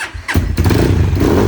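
A 2024 Rottor Synax motorcycle, still cold, fires up after a thump and settles into a loud, steady running engine note close by, with no talking.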